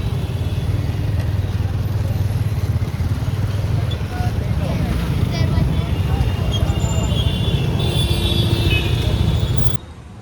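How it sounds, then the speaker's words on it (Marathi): Sunday road traffic in Mumbai on dug-up streets, a dense steady rumble of car and motorcycle engines passing close by, with light clatter, continuous until it drops away abruptly at the very end. "हे बघा संडेला पण ट्रॅफिक आहे."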